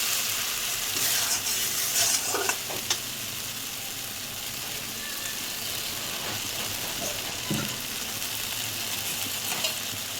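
A cashew and poppy seed paste is stirred in a frying pan for doi potol, a constant sizzle with scraping stirs early on, then a steady hiss and occasional soft knocks.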